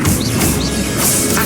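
An Expelliarmus spell cast in Hogwarts Legacy bursts out as a loud, dense magical crack with a swirling, whooshing shimmer, filling the moment without any talking.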